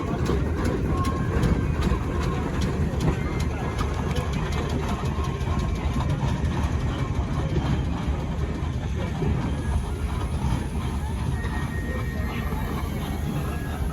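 An Aveling traction engine chuffs and rumbles at a traction engine rally at Astle Park, a steady, mid-distance mechanical drone with light outdoor crowd ambience and a few bird calls, without clear talk.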